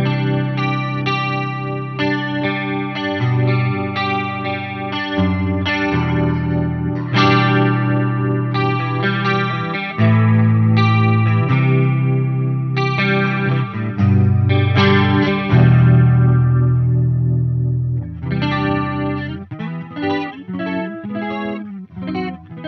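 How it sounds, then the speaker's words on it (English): Electric guitar played through the chorus effect of a Soldano SLO-100X amp, with a shimmering, swirling tone over chords and single-note runs that carries on steadily for over twenty seconds, close and loud with no talking. "Let's check this chorus and see what's up."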